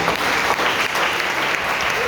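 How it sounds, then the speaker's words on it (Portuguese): A church congregation at an Assembleia de Deus service in Anápolis breaks into loud, sustained applause, a thick and even wall of clapping filling the room with no clear pauses. "Uma salva de palmas a Deus."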